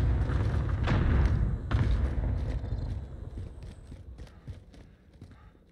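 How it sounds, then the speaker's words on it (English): Footsteps thud close by in a first-person shooter game, a run of heavy irregular steps that are loud at first and then fade away. "Yeah, steps near me."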